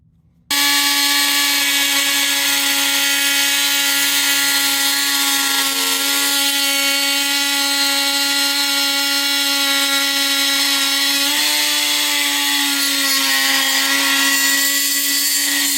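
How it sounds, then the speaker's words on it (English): An oscillating multi-tool cuts along a marked line while removing a billet light knob on a first-generation Dodge, giving a loud, steady high-pitched buzz that runs continuously with slight pitch shifts as the blade bites. "Get you a multi-tool. We're going to cut along the line."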